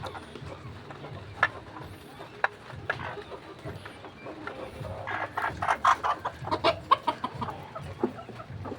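Chickens cluck in short bursts close by, growing busier and louder toward the end, over a low background hum.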